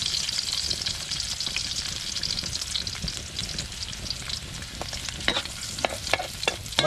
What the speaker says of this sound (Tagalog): Diretso na po yan, gisa.